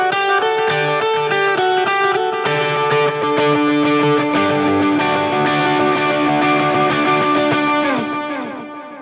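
An electric guitar rings out through heavy modulation and shimmering echo effects from a Line 6 Helix patch, sustained chords layering into a dense wash before fading at the end.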